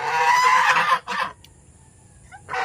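Goose honking loudly and close, a dense burst of harsh honks for about a second, a short second honk, then a quieter pause before the calls resume.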